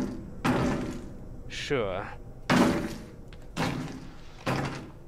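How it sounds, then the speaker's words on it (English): Heavy doors in the horror video game Outlast: Whistleblower, several loud thunks and slams spaced a second or so apart, with a creaking scrape between and someone speaking briefly. "That's his door."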